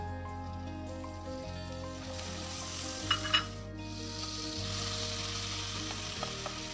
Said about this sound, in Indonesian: Setelah itu baru kita tumis dengan menggunakan margarin yang sudah kita siapkan